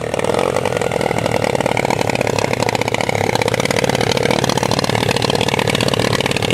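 A Honda quad bike engine idles steadily while standing in rainwater, a close, continuous mid-pitched rumble with a fast, even firing pulse and no speech over it.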